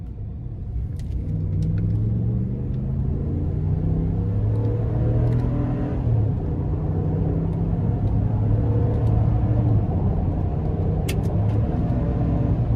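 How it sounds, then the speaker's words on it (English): A 2018 Ram 1500 with a 5.7 Hemi V8 and 77,000 miles accelerates steadily, its deep engine rumble climbing in pitch and then dropping at quick gear shifts, heard loud and continuous from inside the cab. "it shifts faster than some vehicles that have actual paddle shifters"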